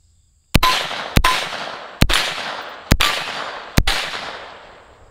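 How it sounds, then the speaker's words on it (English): Five single semi-automatic shots ring out about one second apart from a machine gun, each a loud, sharp crack followed by a decaying echo, with silence before the first shot. "We'll shoot a couple semi, and then we'll get to the full auto action."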